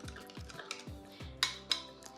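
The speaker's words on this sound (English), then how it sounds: "And then give it a stir again." A spoon stirs sugar into chocolate coffee in a cup, giving a few light metallic clinks and scrapes in a quick, uneven rhythm, close and fairly quiet, with no talking.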